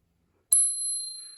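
A single ring of the bell on a 1969 Schwinn Collegiate 5-speed bicycle: one bright, close strike followed by a long, sustained metallic ring that slowly fades.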